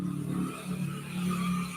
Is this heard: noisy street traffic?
yes